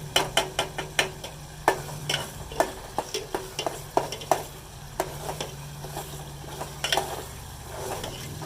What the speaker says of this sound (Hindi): अब हम इसी के साथ साथ दाल डालेंगे।